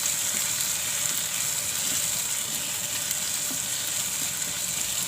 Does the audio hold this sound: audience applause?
no